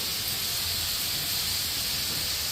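Steady close hiss of food frying in a pan, a broad continuous sizzle with no pauses and no voices, lasting a few seconds.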